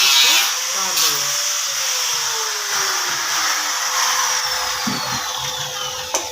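A power tool grinds steadily as it cuts off the excess end of a nut bolt on an iron door frame, producing a loud, high, continuous whine with a slowly changing pitch.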